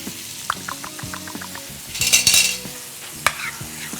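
A spoon stirs fregola sarda pasta salad with green peas and oil in a bowl, giving a series of close, light clicks and scrapes, with a wetter swishing burst midway and no voices.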